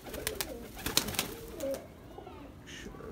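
Breeding pigeons cooing in their coop, several soft, close coos and wing rustles at a moderate level, with no talk over them.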